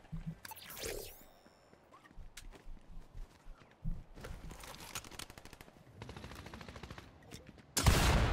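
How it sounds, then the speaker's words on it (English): Fortnite Zero Build battle royale gunfire: scattered single shots and rapid bursts of in-game weapon fire, with footsteps and a loud burst near the end, no talking. "I just shot Goku, what the heck"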